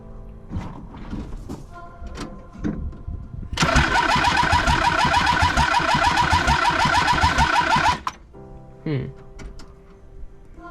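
Old car engine turning over after its spark plug wire is reconnected: a few short thumps, then a loud, rapid mechanical cranking lasting about four seconds that stops abruptly, with people talking before and after.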